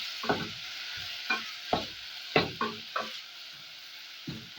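Green capsicum and coriander stalks being stirred in a frying pot for a spicy egg stew, several distinct spoon scrapes and knocks at irregular intervals over a soft underlying sizzle, close and without talk.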